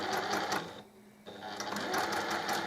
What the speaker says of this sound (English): I am going to do another line of stitching